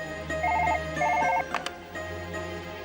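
A telephone rings in a Hindi TV drama scene, with two short electronic ringtone bursts repeating close by, followed by a brief click and a quieter room.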